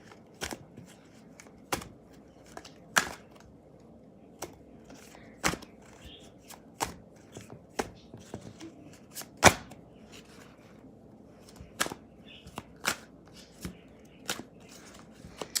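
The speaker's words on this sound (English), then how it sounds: "I never talk when I'm shuffling these cards." Cards riffle in short crisp bursts, a dozen or so quick snaps spread irregularly across a quiet background, close to the listener.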